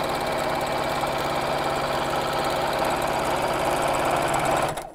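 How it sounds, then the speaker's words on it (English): A sewing machine runs straight seams nonstop, a steady, fast, rhythmic mechanical whir and tick, close and loud, cutting off abruptly at the end. "sewing in straight lines here at the moment"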